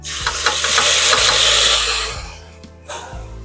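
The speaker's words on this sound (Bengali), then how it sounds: "ফোড়নটা ভাজা হলে এবার বেটে রাখা মশলাগুলো দিয়ে দেব, আদা জিরে আর লঙ্কা" A loud burst of hissing sizzle erupts as ground ginger, cumin and chilli paste hits hot oil, then slowly fades, with a few utensil knocks against the pan.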